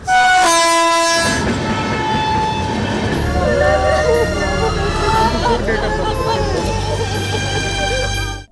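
A loud train horn blares at the start, then a train rumbles and clatters past at close range, with faint voices in the background.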